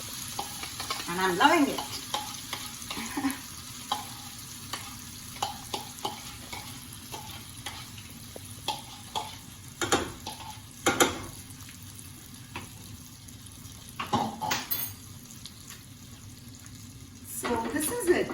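Cashews sauté lightly in ghee in a pan, giving a soft continuous sizzle broken by repeated scraping and stirring clicks of a spatula, with someone talking briefly over it.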